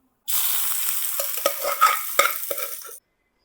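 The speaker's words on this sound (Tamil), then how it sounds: "நம்ம ரெடி பண்ணி வச்சுருக்க அந்த மட்டனை வந்து நம்ம ஆட் பண்ணிடலாம்" Mutton hits golden brown onions in a pressure cooker and fries with a loud sizzle, broken by several scraping stirs of a spoon over about three seconds, close and alone.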